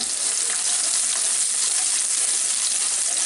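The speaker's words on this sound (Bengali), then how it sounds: "এখন এটাকে হালকা করে একটু ভেজে নিব, পেঁয়াজের পাশটা হালকা একটু লাল হওয়া পর্যন্ত আর কি" Chopped onion hits hot oil with popping mustard seeds for a sweet corn curry, producing a loud, dense, unbroken sizzle close up with no voices.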